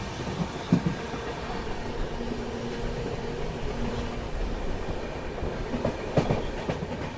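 The Ananya Express rolls past on the rails in a steady rumble, with clickety-clack of wheels over the joints and a few louder clanks near the start and end.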